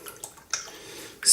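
Water splashes up close as a face is wetted before a shave with lemongrass soap, a few soft bursts and drips ending in a louder splash, no talking.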